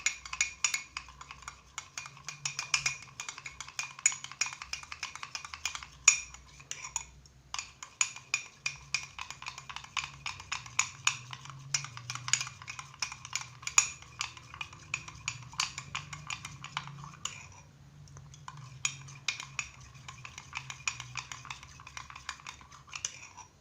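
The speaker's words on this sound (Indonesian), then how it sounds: "Setelah itu, kita aduk sampai tercampur merata." A spoon clinks and scrapes steadily against a bowl while a herbal remedy mixture containing egg yolk is stirred, producing quiet, rapid, repetitive taps and a soft swirling scrape with no talking.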